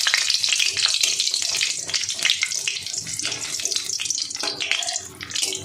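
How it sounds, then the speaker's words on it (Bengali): Batter-dipped fritters (bora) fry in hot oil in a kadai, a loud, bubbling, crackling sizzle that surges and churns throughout, close up with no talking. "আমি একটা একটা করে বড়া এরকম এই ব্যাটারে ডুবিয়ে তেলের মধ্যে ছেড়ে দেব।"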